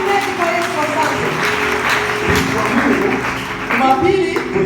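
A church congregation applauds for Jesus, with sustained clapping under continuous voices and a swell of louder clapping near the end.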